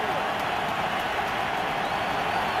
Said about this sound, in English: Bronco crowd turns it up a notch